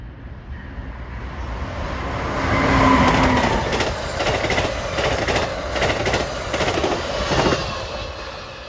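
Amtrak train 649 from New York to Harrisburg approaches Malvern westbound on the Keystone Corridor, a steady rumble and rolling wheel clatter building to a peak as it nears, with rhythmic rail joints clicking throughout.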